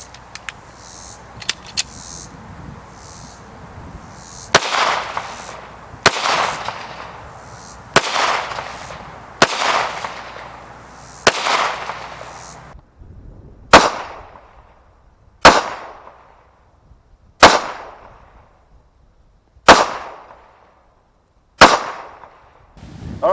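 Walther PPQ Q5 Match pistol fired at 3 yards, a dozen sharp, loud shots spaced about every one to two seconds, each followed by a short echoing decay.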